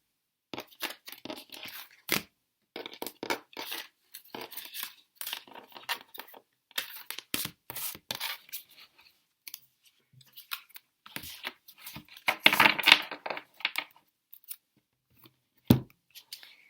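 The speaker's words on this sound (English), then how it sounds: "I'm just going to take away all of these cards, put them back into the deck as well." Tarot cards gathered and slid back into the deck during a reading, a quiet, irregular series of soft shuffling, tapping and flicking sounds close by, with brief sharper snaps and no talking.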